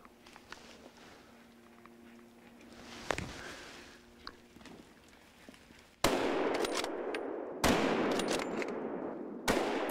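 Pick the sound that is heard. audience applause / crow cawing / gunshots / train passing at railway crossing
gunshots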